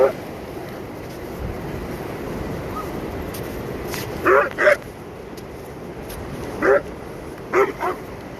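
A Great Dane on an ocean beach gives several short whimpering yips in two brief clusters, heard over steady surf and wind noise with a voice speaking nearby.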